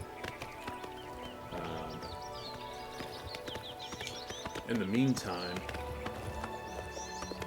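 Horse hooves clip-clopping in the game Oblivion Remastered: a rhythmic trot of hoofbeats at moderate distance under steady talk, with birdsong chirping in the background and a brief whinny-like sound midway.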